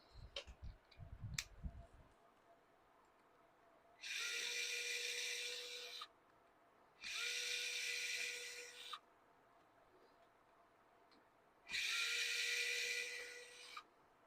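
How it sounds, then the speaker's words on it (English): Small Injora electric screwdriver reassembling RC bead lock wheels, whirring in three separate bursts of about two seconds each, close and fairly loud, after a few light handling clicks. "If you don't have one of these little electric screwdrivers, I would highly recommend getting one."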